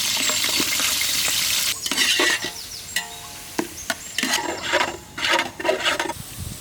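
Onions fry in ghee in a pot with bay leaves and green chillies, a steady sizzle at first, then broken by repeated scraping and knocking as a spoon stirs them.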